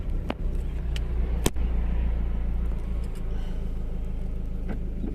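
A car pulls away smoothly in gear after a slow clutch release, its engine a steady low rumble heard from inside the cabin, with a few small clicks and knocks and no talking.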